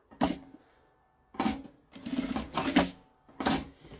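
A sewing machine stitches a zipper onto a bag in short whirring bursts separated by pauses, heard fairly close and moderately quiet, with no talking.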